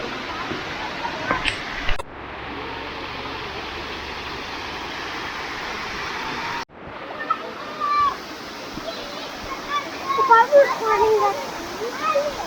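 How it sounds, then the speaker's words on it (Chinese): A waterfall in a park along the Bay of Fundy makes a steady broadband rush that cuts off abruptly twice. Faint voices and small bursts of noise rise near the end. "这就是它的一个瀑布"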